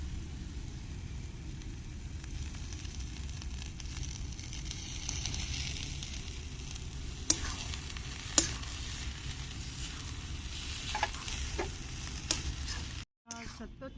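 Eggplant bharit with plenty of coriander is stir-fried in oil in a pan, giving a steady, soft sizzle with occasional scrapes and clicks from stirring.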